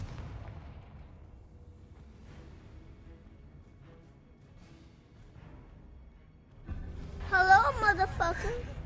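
Confringo fire spell explosions blast in Hogwarts Legacy gameplay, a burst of loud booming impacts near the end following quieter low rumble, with someone speaking over it.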